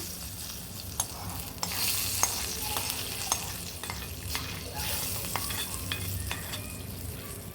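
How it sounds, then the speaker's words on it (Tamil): Steady oil sizzling as tempering is poured into horse gram rasam, with scattered sharp crackles and pops, close up, no voices. "ஏற்கனவே செஞ்சு வச்சுருக்கிற ரசத்தில் தாளிச்சதை நான் சேர்த்துக்கிறேங்க"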